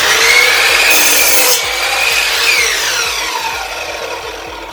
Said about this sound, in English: Now, let's try cutting this 6-inch wide piece of wood.